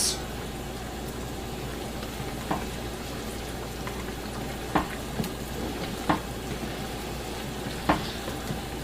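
Pasta boils in a pot on the stove, a steady bubbling, sizzling wash close by with occasional sharper clinks and stirring knocks scattered throughout, with no one speaking.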